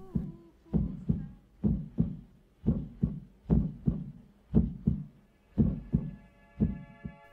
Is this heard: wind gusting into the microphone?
no